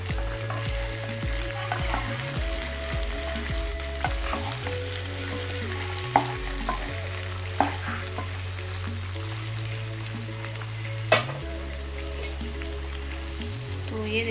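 Chicken fries in a pan with garam masala and chicken masala, a continuous close sizzle with occasional sharp utensil taps, under a low steady hum.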